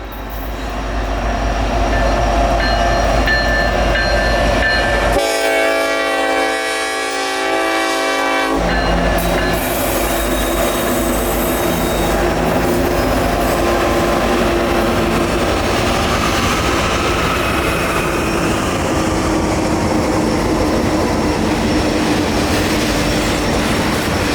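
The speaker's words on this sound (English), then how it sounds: "it'd be another handheld shot as the grainer was right on our tail" A Norfolk Southern grain train rolls by close and loud, a long sustained horn blast early on over the continuous rumble and clatter of wheels and cars that carries on steadily to the end.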